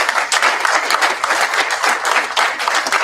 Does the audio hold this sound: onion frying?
no